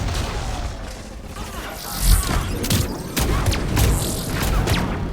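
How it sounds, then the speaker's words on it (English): Proxy mine in a team sniping shooter game going off far away, low booms and thuds mixed with scattered crackling gunfire and steady game noise. "That proxy mine was way far to the left and went off into the distance."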